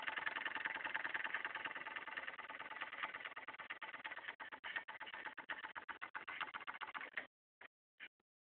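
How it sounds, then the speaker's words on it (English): Engine noise from a bicycle fitted with a 1200 watt Cyclone motor and a turbo spokes exhaust, a steady rough motorcycle-like drone that runs close and loud for about seven seconds, then cuts into a few brief bursts. "this bike sounds like an actual real motorcycle"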